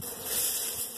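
Honey bees buzz around a hive during hive cleaning in early April, a dense, continuous near hum with no voices.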